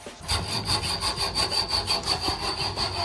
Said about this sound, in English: You're making him use a hacksaw.